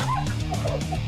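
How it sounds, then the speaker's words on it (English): Dogs in the video game Caesar's Revenge bark and yelp in quick, close, high-pitched bursts that form one brief, loud flurry. "Dogs! Dogs! Dogs in video games are always the worst!"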